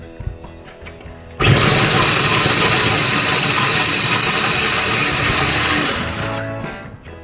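A mini food processor mincing an onion starts abruptly with a loud, steady motor whir that runs for about five seconds, then winds down and stops, with no voices present.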